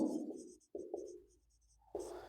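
Pen writing on paper during a class 10 maths lesson, three short close scratchy strokes separated by brief pauses, quiet and alone with no talk.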